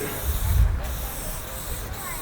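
Rust-Oleum Maui Blue spray paint hisses from a can in a steady, close, continuous stream, filling in a graffiti piece, with a brief pause partway through.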